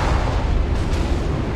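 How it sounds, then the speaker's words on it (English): Ship explosions in a naval combat video game, a loud, dense rumbling boom with a rolling low roar that fills the short stretch without pause. "the explosions are something else"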